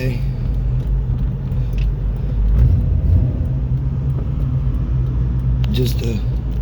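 A car on a leisurely cruise rumbles steadily from inside the cabin, its engine swelling briefly midway, with a person talking over the drone.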